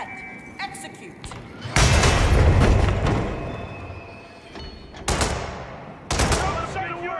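Gunfire in the video game Hitman: bursts of rapid automatic shots and heavy booming hits layered over game sound effects, loud and dense, with sharp single cracks near the end.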